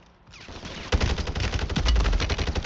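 Dense automatic gunfire and rapid shots from the video game Warzone 3 in Plunder mode, building from a quiet start into a loud, sustained burst of rattling fire with heavy low thumps.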